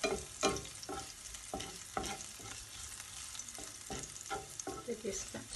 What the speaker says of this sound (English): stirring it round.